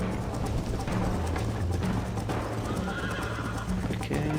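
A horse in the Red Dead Redemption video game whinnies while galloping in a race, its rapid hoofbeats drumming steadily beneath loud neighs, all up close and without speech.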